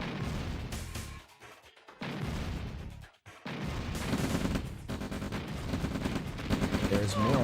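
Dense bursts of infantry gunfire and artillery fire in a real-time strategy game, with a crowded, continuous wall of shots and blasts building louder toward the end, briefly broken by short lulls.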